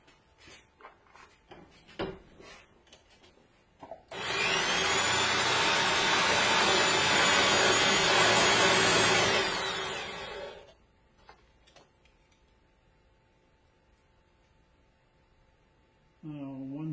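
A Lee Quick Trim power system trims 300 Blackout brass, starting with a loud, steady motorized whir that runs about six seconds and then stops, with handling clicks before and after and a person talking.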